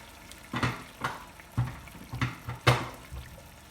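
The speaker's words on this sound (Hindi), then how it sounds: "इसमें डाल देंगे थोड़ा सा पानी ताकि बैगन गल जाए।" A little water poured into a pan of stuffed eggplants frying in masala, giving a string of short splashing, hissing bursts at close range, about six in quick succession.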